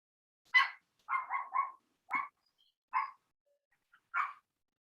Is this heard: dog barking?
yes